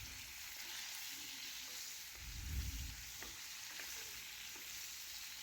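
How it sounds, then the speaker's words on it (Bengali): Eggplant and potatoes frying in a pan with salt and turmeric, a steady quiet sizzle with a soft stirring scrape swelling briefly in the middle, no voices. "এখন একসাথে বেগুন আর আলু একটু নাড়াচাড়া করে মিশিয়ে নেব।"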